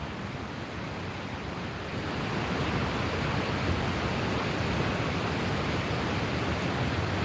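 The Great Falls waterfall in Paterson, New Jersey, roars as a steady broadband rush with no talk, heard from a distance, growing slightly louder after the first couple of seconds and holding constant.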